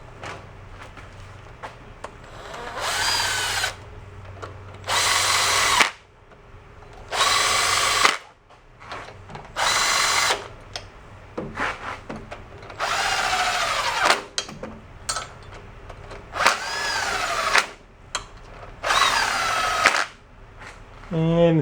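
An electric power tool runs riding mower engine bolts in, buzzing in repeated short bursts of a couple of seconds each, separated by brief pauses, close and fairly loud with quiet handling noise between.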